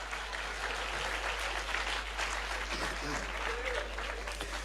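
Audience applause at a live comedy show, steady, moderately loud clapping from a crowd over a constant low hum, with faint voices mixed into the clapping.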